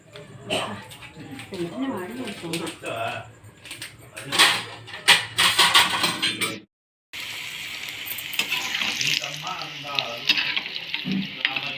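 Small pieces of food frying in ghee in a home kitchen, a steady crackling sizzle with stirring scrapes, interrupted by a brief cut, under someone talking throughout.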